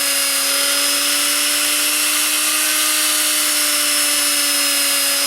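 A small handheld drill bores into a bead under light downward pressure, giving a steady, sustained high-pitched motor whine that continues alone without a break.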